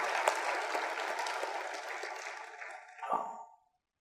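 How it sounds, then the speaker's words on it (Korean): A church congregation applauds during a Sunday service, a steady wash of clapping that thins out and stops after a final brief swell. "이 은혜를 주신 하나님께 영광의 박수를 드립니다"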